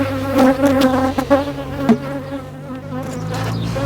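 A swarm of honeybees hums loudly and close up as it is moved into a nucleus hive. Individual bees whine past in wavering tones over a steady drone.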